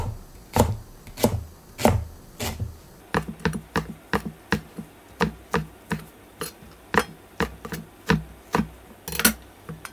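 A knife slices green onion diagonally on a cutting board, producing crisp close taps, a few slow cuts first, then a quicker, fairly even run of chops.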